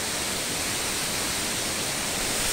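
Cachoeira da Mariazinha, a waterfall in Chapada Diamantina, Brazil, gives a loud, dense and steady rush of falling water that fills the whole stretch without a break.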